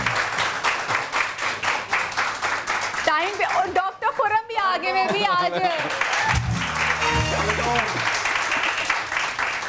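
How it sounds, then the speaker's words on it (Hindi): Studio audience applauds guests on a Pakistani morning talk show, a dense clapping wash that fills most of the stretch, with people talking over and between it and music joining near the end. "इनके लिए भी जोरदार तालियां होनी चाहिए"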